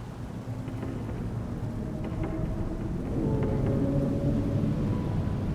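Steady rain falls in a spooky campfire story, a dense hiss with low thundery rumble beneath, continuous and fairly loud with no voices.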